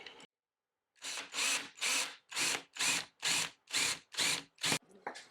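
A drill bores a hole straight through a wooden dowel held in a UJK drill guide on a workbench, in a series of about nine loud, evenly spaced bursts after a short pause, close and without talk.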